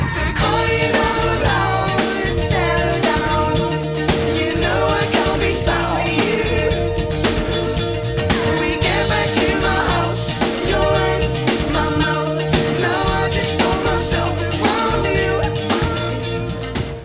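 Live performance of a single: a full band with drums, bass, guitars and vocals played loud and dense throughout, no talking over it.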